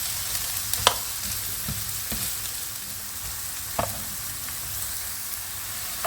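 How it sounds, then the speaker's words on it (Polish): Diced onion sizzles in hot oil in a pan, a steady close hiss with a few sharp crackles and the scrape of stirring. "Wlewam olej. Dodaję pokrojoną w kostkę cebulę."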